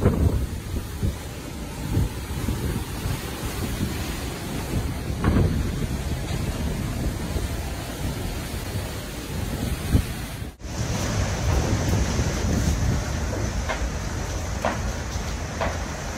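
Storm at sea heard from the deck of a cruise ship: strong wind buffets the microphone over the constant crash and rush of heavy waves, loud and continuous, with a sharp break partway through.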